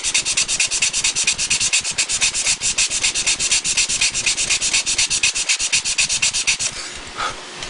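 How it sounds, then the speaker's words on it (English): A piece of sandpaper rubs back and forth across wood in quick, steady strokes, close and loud, with a rasping rhythm that continues for several seconds before easing off near the end. "we really should do is replace this piece of sandpaper pretty soon"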